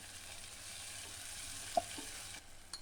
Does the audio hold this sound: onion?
yes